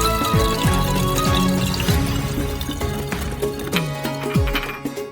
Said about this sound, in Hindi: फ्लास्क में स्पिरिट की 2 बोतलें डालेंगे